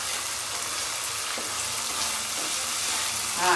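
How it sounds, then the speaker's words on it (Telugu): Ginger garlic paste sizzles steadily in hot oil for a chicken curry, a dense continuous frying hiss with light stirring scrapes and a brief louder clatter at the end. "అల్లం కూడా మంచిగా ఏగనిస్తున్నా"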